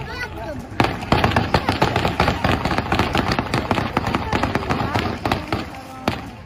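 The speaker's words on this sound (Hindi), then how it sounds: "तभी दनादन इतनी फायरिंग होने लगी कि वो चौंक गया" Rapid bursts of gunfire near an airport in Afghanistan, dense, loud and continuous crackling shots after a brief quieter opening, with a few isolated sharp reports near the end.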